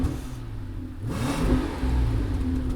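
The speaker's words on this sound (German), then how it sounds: "für mich ist das eindeutig ein 12-Zylinder" A Brabus car with a twelve-cylinder engine revs up, a smooth rising mechanical roar climbing in pitch over a low rumble, heard close with no talking.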